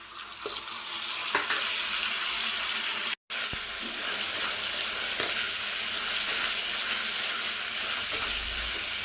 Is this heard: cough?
no